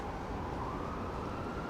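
A fire truck or ambulance siren wails on a busy city street, steady and moderately loud amid dense traffic rumble, with no clear rise or fall over the short span.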